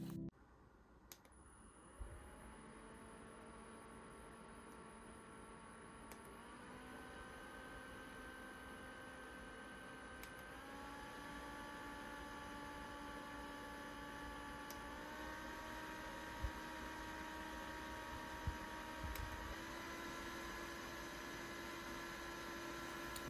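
A small portable neck fan whirs steadily with a faint motor hum, its pitch stepping up several times as the speed modes increase, with occasional soft clicks.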